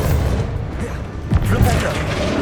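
Confringo and Bombarda spell blasts in Hogwarts Legacy, loud booming impacts over a rumbling battle din, with a voice shouting over them.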